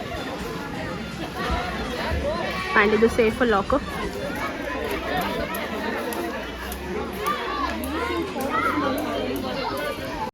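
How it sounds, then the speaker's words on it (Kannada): Crowd at a resort swimming pool near Bangalore, a lively babble of many voices with children shouting and playing, splashing activity nearby, and a person speaking close up over the din. "ಇಲ್ಲಿ ನೋಡಿ ಸ್ವಿಮ್ಮಿಂಗ್ ಪೂಲಿಗೆ ಎಷ್ಟು ಕ್ರೌಡ್ ಇದೆ"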